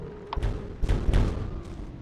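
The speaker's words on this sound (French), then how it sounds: "On entend des feux d'artifice" Fireworks at the summer festival in Animal Crossing go off as a few soft, muffled thumps and pops spread over two seconds, fairly close and with no talk over them.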